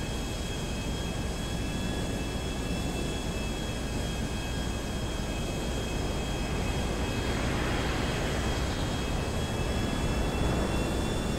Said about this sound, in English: There's a bloody jet.